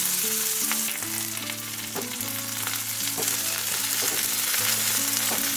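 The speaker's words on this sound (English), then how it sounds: "Now I will fry it." Small chopped onion fries in a pan with cumin seeds, a continuous close crackling sizzle with light stirring knocks running throughout, and no one talking.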